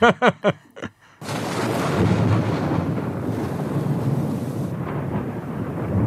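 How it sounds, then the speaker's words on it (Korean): Deep thunder rolls as a long, broad rumble that swells after a brief burst of loud cracks and then sustains for several seconds under a dry sky, with no voices. "오늘 뭐 천둥번개 마른 하늘에 엄청 치고 있습니다."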